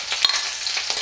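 Chopped shallots and green chilies sizzling in hot oil in a pan, a brief, steady crackle with a few soft stirring scrapes.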